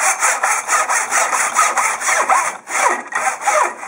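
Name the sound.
miter saw cutting wood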